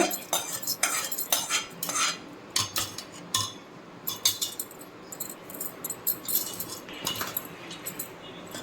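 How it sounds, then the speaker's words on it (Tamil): A spoon stirs lemon rice in a metal vessel, producing repeated close clinks and scrapes in an irregular rhythm, fairly loud against a quiet room with no speech. "பாருங்க இப்போ எல்லா சாதத்துலேயும் சேர்கிற மாதிரி நல்லா மிக்ஸ் பண்ணி எடுத்துக்கலாம்"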